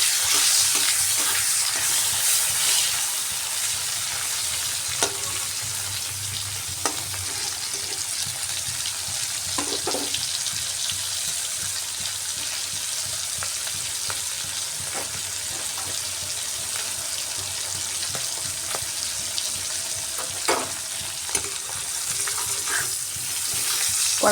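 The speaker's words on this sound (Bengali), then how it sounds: "সামান্য হলুদ দিয়ে দিলাম আর সামান্য লবণ দিয়ে শুকনো মাছটাকে ভেজে নিচ্ছি।" Dried fish frying in oil with turmeric and salt, a loud, dense, continuous sizzle and crackle throughout, with occasional soft clinks of a utensil stirring in the pan.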